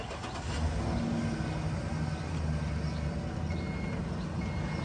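A 2013 Chevrolet Express 3500 van engine runs at a steady, fairly loud rumble with a low throbbing idle and no talking.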